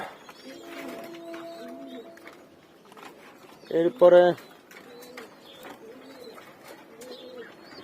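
Pigeons coo in a home loft among growing squabs, with soft repeated cooing phrases and one louder burst close by, while someone talks over them.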